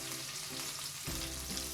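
Chopped onion sizzles and crackles in hot oil in a pan, a steady close frying hiss with a louder burst of sizzle about halfway through.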